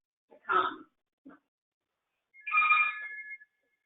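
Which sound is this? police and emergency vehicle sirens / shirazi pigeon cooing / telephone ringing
telephone ringing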